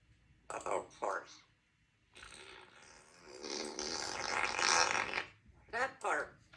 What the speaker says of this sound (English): That fart.